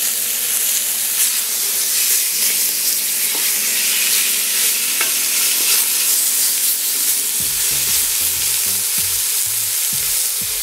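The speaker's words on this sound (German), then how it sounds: "Jetzt nehmen wir uns zuerst das Rinderfleisch und werden das ein bisschen anbraten" Beef chunks sear in a hot Dutch oven, a dense continuous sizzle with occasional stirring clatter and scraping, close and steady throughout, no one speaking.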